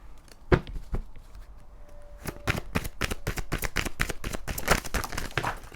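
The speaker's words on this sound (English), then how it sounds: "So I'm going to keep on shuffling here." Tarot cards riffled and shuffled repeatedly, crisp rapid flutters and snaps close to the microphone, with no voices.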